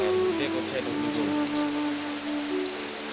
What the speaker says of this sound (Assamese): এতিয়াও বৰষুণ এৰাই নাই।